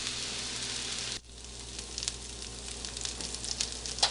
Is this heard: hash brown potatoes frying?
yes